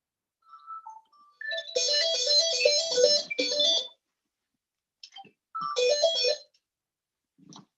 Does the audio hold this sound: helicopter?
no